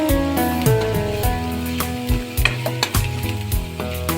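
Chicken thecha with green chillies stirred and sautéed in a pan, a close, steady sizzle broken by repeated scraping and clattering of the spoon against the pan, with no talking.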